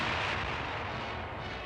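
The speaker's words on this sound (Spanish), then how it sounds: "Disparo de bazucas en una ciudad alemana." A bazooka anti-tank weapon fires in a German city during the Second World War, a loud, booming blast that rolls off into a rumbling tail and fades through the short stretch.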